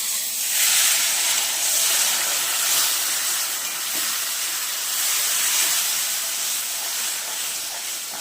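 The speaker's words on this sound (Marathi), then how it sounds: "आपण पाणी टाकून घेऊया उकळचं पाणी आहे" Boiling water is poured into a pan of upma, setting off a loud, sustained steaming hiss and sizzle that swells and eases over several seconds, close up with no talk.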